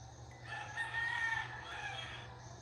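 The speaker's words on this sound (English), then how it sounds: "Up with the goddamn roosters, man." A rooster crows once in the morning, a faint, drawn-out call heard from a distance over a steady low hum.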